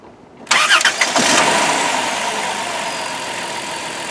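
A 2002 Chrysler Town and Country minivan engine cranks briefly and catches, then settles into a steady, fairly loud idle that runs on alone after the start, heard up close with a new alternator fitted.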